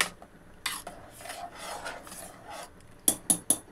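Sambar being stirred in a pot after sambar powder is added, a soft scraping, rubbing sound from the spoon moving through the thick liquid, ending in three short sharp taps of the spoon against the rim.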